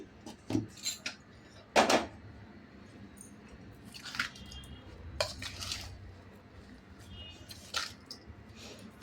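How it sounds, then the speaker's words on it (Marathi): A spoon stirs turmeric through a raw mango and green chilli pickle, making scattered wet squishing scrapes and light clinks against the bowl at an uneven pace, close and fairly quiet. "आता त्यामध्ये आपण 1 चमचा हळद घालणार आहे आणि मिक्स करून घेणार"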